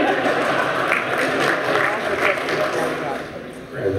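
Audience applause during a keynote speech at a tech event, a dense continuous patter of many hands clapping that fills the room and eases slightly toward the end.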